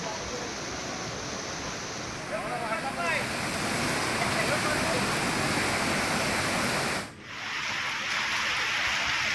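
Heavy floodwater rushing over a causeway in torrential rain at Khed, Ratnagiri, as the Jagbudi and Narangi rivers flood; a loud, steady, broadband roar of water and rain that dips briefly before resuming.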